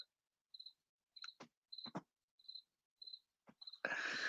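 Crickets chirp outdoors in short, evenly spaced bursts against near silence, with a few soft clicks between them and a brief rush of noise at the very end.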